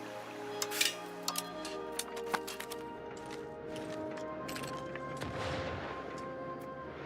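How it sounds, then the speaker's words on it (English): Cannon fire in the strategy game Europa Universalis 5: a handful of sharp booms and clicks over a steady layer of game music and ambience, none very loud. "Just shooting cannons off over there."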